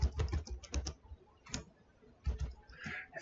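Typing on a computer keyboard while coding a C# application makes close, crisp key clicks in quick clusters separated by short pauses, with no talking.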